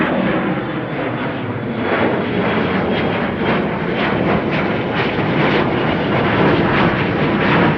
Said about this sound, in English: heading from one arrival to one departure, an Embraer 175 KLM